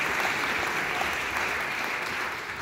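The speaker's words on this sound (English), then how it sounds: "We also have a round of applause for the volunteers who helped everybody get in today" A film premiere audience gives a round of applause for the volunteers, steady broadband clapping from a crowd in a screening room, fairly soft and continuous with no talking.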